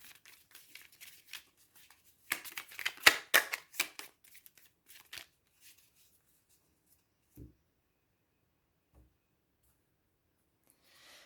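Oracle cards being shuffled for a nine-card draw, giving soft riffling and flicking bursts that peak in a quick flurry, then trail off into a few faint taps and near silence. Close and quiet, with no voice.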